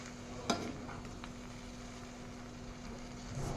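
Dry fruits sizzle quietly in homemade ghee, a soft continuous frying hiss with a single faint clink near the start, low and steady, no speech.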